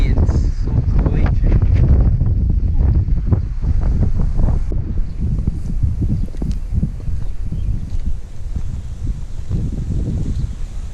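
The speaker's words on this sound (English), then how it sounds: "It's just so windy and so cooling." Strong, steady wind buffets the microphone in a constant roar, with a faint wash of surf underneath.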